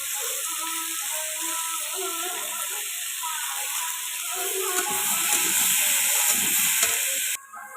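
Salt, chili and turmeric fry in a pan over a smoky clay stove, making a steady, close sizzle that swells slightly midway before cutting off near the end, with a voice talking quietly beneath.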